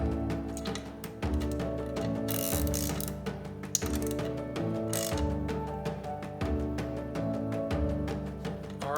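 A ratchet tightening a nut while assembling Beast Sticks, giving a steady run of rapid, close mechanical clicks over a constant tonal background hum.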